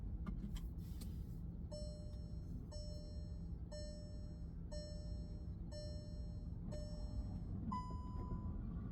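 Inside a car: a steady low cabin rumble runs under a clear electronic chime that repeats roughly once a second, evenly spaced, with no one talking.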